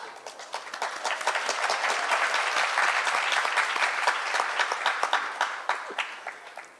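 A lecture-hall audience at a morning Srimad Bhagavatam class breaks into sustained, dense applause, many hands clapping steadily at moderate loudness with no talk over it for the whole stretch.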